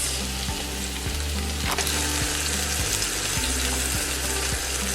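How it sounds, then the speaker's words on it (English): Ground beef sizzles and crackles steadily in a hot pan for Filipino beef giniling, a continuous close frying hiss with soft stirring scrapes and no voices. "after a few minutes, we're going to go ahead and add in our meat"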